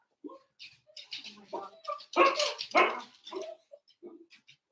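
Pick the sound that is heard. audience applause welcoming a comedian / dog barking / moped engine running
dog barking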